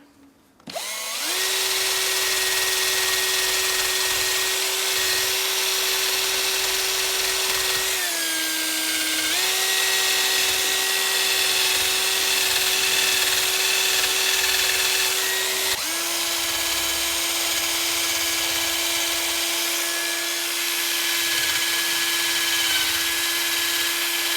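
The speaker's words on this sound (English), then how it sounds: "with a small wire wheel on the battery powered electric drill, we'll give this a quick clean up" A small wire wheel on a cordless drill whines loudly and steadily, with a couple of brief dips in speed as it scrubs rust off metal bolts.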